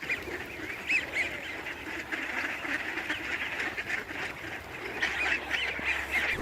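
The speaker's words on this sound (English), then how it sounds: "What are you feeding the ducks here?" Ducks quack and honk repeatedly in a lively, continuous chorus while being fed sunflower seeds, peanuts and flax seeds outdoors in a snowy winter park in Vancouver.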